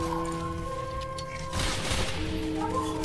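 Rapid machine gun fire in a World War-style multiplayer shooter game, dense, steady bursts over a continuous battle din with no talk.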